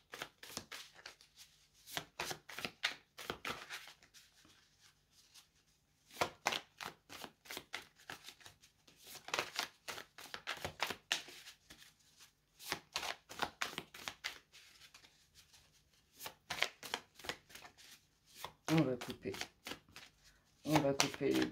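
Oracle cards being shuffled and cut by hand in repeated bursts of crisp riffling and slapping, with quiet pauses between rounds and a louder card cut at the end; no talk is heard.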